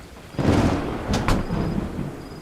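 A thunderclap rolls in close and loud over steady heavy rain on a stormy night, a brief rumbling burst within a dark Hindi horror story soundscape.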